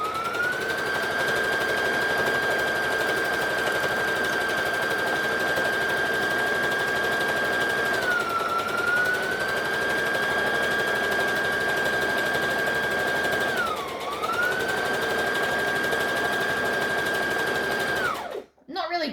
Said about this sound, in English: I'm just going to sew, back stitch.